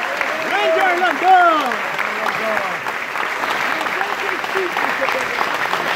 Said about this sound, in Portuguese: a quem eu peço que vocês saúdem com uma calorosa salva de palmas